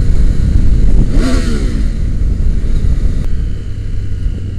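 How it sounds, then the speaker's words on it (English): Triumph Tiger 900 Rally Pro inline-three engine growling as the bike rides, a loud close roar with a rising rev sweep near the start, then a steady drone. "That growl on that inline-3 engine is just music to my ears."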